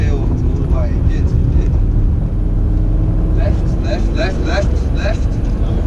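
A Lamborghini Gallardo accelerates hard on a track at drift limits: a loud, close engine note climbs in repeated rising sweeps as the power builds, with a voice talking over it.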